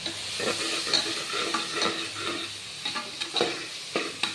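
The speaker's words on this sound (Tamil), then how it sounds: "இந்த மாதிரி நல்லா வதக்கணுங்க." Soya chunks (meal maker) sauté in a pan for a pulao, with a steady frying sizzle and irregular scraping and stirring clicks throughout, without talking.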